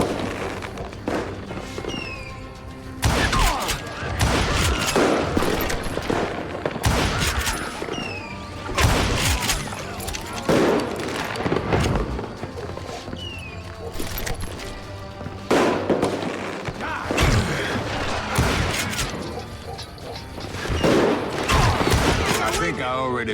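Rapid gunfire crackles repeatedly in the Western shooter Call of Juarez: Gunslinger, with shots and bursts landing at uneven intervals over a busy game soundtrack while characters shout.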